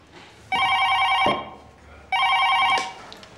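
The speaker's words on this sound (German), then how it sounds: "Das Telefon für dich." An office telephone rings twice, each a bright electronic trill lasting under a second with a short pause between, loud and close in a quiet room.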